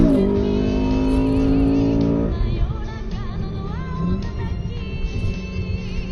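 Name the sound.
Honda Accord CL7 K20A VTEC engine revving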